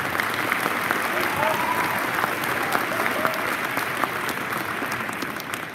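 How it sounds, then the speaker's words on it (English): An audience at the Stewartville High School 2023 indoor concert applauds the adults being thanked. The dense, steady clapping fills the hall and carries on without a break. "so let's give those folks a round of applause."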